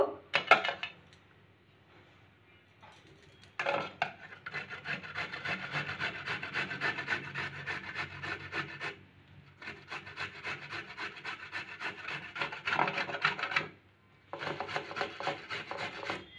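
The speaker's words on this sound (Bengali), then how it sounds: "তো চলুন এবার আমি গ্রেট করে নেব।" Amla, Indian gooseberry, grated on the fine side of a metal grater: rhythmic raspy scraping strokes in several long sustained runs, close and fairly loud, with short pauses between bursts.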